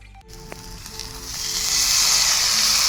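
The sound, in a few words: chow mein being stir-fried in a pan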